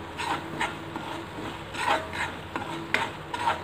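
Peanut and curry leaf powder dry-roasted in a pan for curry leaf rice, stirred with a steady scraping, rasping rub and a few louder strokes, fairly quiet and close with no talking.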